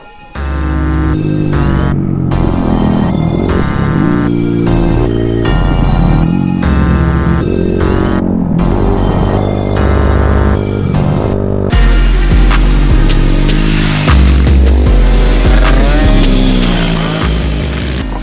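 A motorcycle rides on a race circuit. The engine drones loud and close for the whole stretch, with a steady harmonic whine that climbs and drops through gear changes, and a harsher, higher-revving push in the final seconds.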